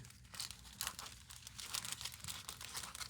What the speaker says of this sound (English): And we're going to cut it this way.